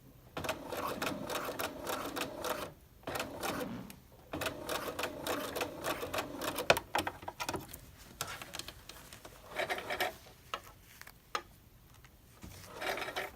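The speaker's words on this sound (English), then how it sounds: "I'm going to sew right off where that line is and where my pin is" Close up, a sewing machine runs in repeated bursts as it stitches a dart in fabric, its rapid rattling chatter stopping and starting with short pauses between runs.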